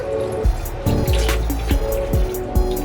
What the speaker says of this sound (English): So we're gonna add some apple cider vinegar,